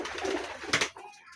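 A domestic pigeon coos once or twice, close and fairly quiet, with a short burst of flapping or rustling midway through.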